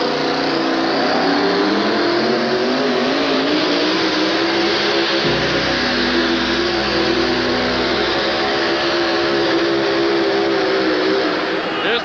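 A wheel-standing four-wheel-drive monster truck with two engines of about 1,500 horsepower each roars continuously at a 1988 USHRA event in Hartford, loud and sustained, with the pitch shifting partway through, under the announcer's talk.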